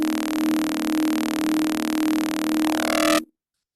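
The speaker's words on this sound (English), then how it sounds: "So yeah, you can hear that FM really screech through." Screeching FM synthesizer tone holds a harsh, steady buzzing drone for about three seconds, thickening into a gritty sweep before cutting off abruptly into silence.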